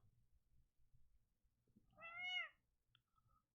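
A pet cat named Lady Catherine gives a single short, clear meow close by, rising and falling over about half a second amid an otherwise quiet room with faint low rumble.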